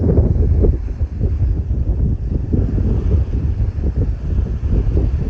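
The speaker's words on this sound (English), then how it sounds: "It's definitely windy today." Strong wind buffets the microphone aboard a sailing boat in a constant low roar with gusty surges, and choppy water may be churning faintly beneath it.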